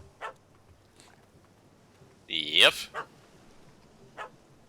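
A dog in The Witcher 3 lets out a few faint yips and one louder, whining bark-howl that slides in pitch, while a person speaks briefly nearby.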